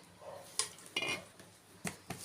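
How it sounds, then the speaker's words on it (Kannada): A spoon clinks faintly against a glass as sugar is stirred into tamarind juice and water, a few light, sparse taps and scrapes in a quiet kitchen. "ಸಕ್ಕರೆ ರುಚಿಗೆ ತಕ್ಕಷ್ಟು ನೀರಿಗೆ ಸೇರಿಸ್ತಾ ಇದ್ದೇನೆ"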